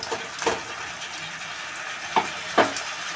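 Spice paste for fish gravy frying in a pan, a soft steady sizzle broken by a few sharp spoon scrapes and taps as it is stirred, close and moderate in level.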